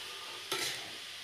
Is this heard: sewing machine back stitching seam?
no